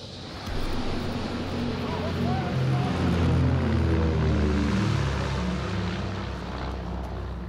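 Recon aircraft passing over in Call of Duty: WWII, a low droning propeller engine that swells in from the start, peaks mid-clip, then slowly recedes under a wash of battlefield ambience.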